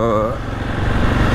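A 2020 Husqvarna 701 supermoto motorcycle rumbles at low speed through a town centre, its engine running close under someone speaking.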